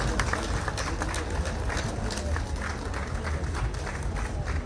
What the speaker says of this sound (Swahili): Naomba makofi mengi kwao